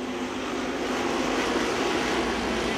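Street race car launching from the green flag at a speedway drag strip, a loud, sustained engine roar with no clear gear changes, continuous throughout with no talking.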